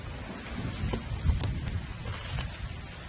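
Rain pours down in a sudden cartoon thunderstorm near a giant skeleton, a dense, steady patter of drops with a faint low rumble underneath, moderately loud and continuous without voices.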